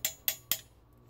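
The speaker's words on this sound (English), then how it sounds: "I'm just going to take the spoon and flatten it down on my homemade anvil." Three sharp metallic hammer strikes flatten a spoon on a homemade anvil, evenly spaced about a quarter second apart, each ringing briefly before decaying into quiet.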